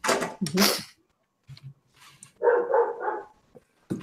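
Several dogs in a home bark in short bursts, loud and close, with a gap before another cluster of barks; a brief voice sound appears near the end.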